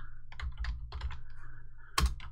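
Quick keystrokes on a computer keyboard while entering text in an image editor, a short irregular run of light clicks, close and fairly quiet, with no talk.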